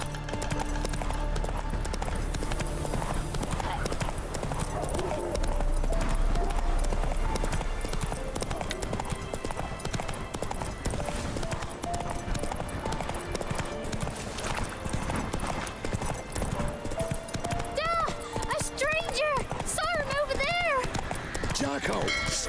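Roach, the horse in The Witcher 3, gallops with rapid, rhythmic hoofbeats that run throughout, mixed with game sounds and a neigh near the end, while a voice talks over it.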